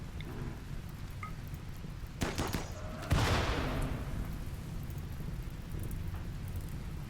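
Steady rainfall patters in the background of Rimworld, broken by a couple of sharp cracks and then a loud thunderclap that rumbles and slowly fades under the rain.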